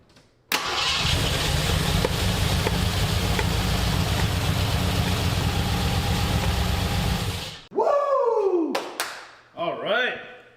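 A seized Grand Wagoneer engine, primed with a shot of brake cleaner, cranks loudly and steadily for about seven seconds, then gives two shorter cranking bursts separated by brief pauses.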